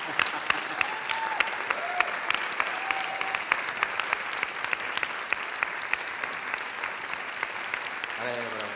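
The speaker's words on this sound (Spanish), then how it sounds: "Un aplauso para Fernán Quirós." Applause from a forum audience fills the whole stretch, dense steady clapping at moderate level, with a voice briefly heard through it and speech starting at the end.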